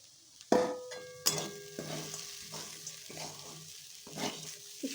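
A spoon stirs poha in a pan with fresh peas, carrots, cauliflower, potato and fried raisins, salted and lightly sugared. Sharp clanks of metal on metal come with ringing tones and softer scraping strokes, with no voices.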